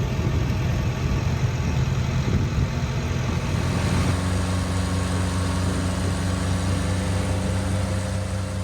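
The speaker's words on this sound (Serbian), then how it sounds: "umesto toga slušamo zaglušujuću buku motora" A boat motor on Tonle Sap lake at Kampong Pluk drones loud and close, a steady low engine rumble that settles into an even, sustained hum.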